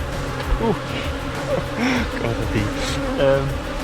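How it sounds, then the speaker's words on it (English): Bees buzz around a boat's swim platform where water from a shower drips, with steady close hums weaving in and out over background rumble and faint voices. "every time we have a shower at the swim platform, the bees just come."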